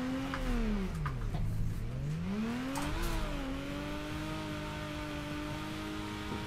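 Drift car engine in Torque Drift revving hard, pitch swooping down then climbing again as it bogs and recovers, a steady loud whine with harmonics running throughout, with no talk over it.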